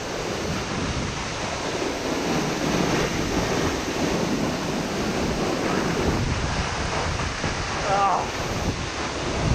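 Aber Falls waterfall in Wales roaring up close, a loud, dense, unbroken rush of falling water with wind buffeting the microphone and a brief exclamation from a person partway through.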